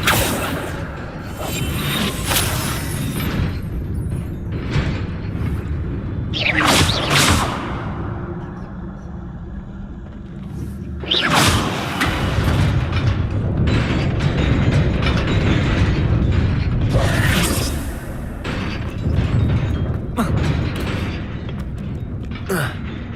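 An Incendio fire spell goes off in Hogwarts Legacy gameplay with several loud whooshing, booming bursts over continuous game noise and effects.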